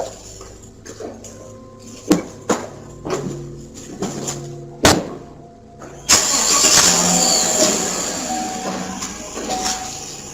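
Truck engine cranking through several sharp starter bursts, then catching and roaring as the vehicle pulls away, fairly close and with no one talking.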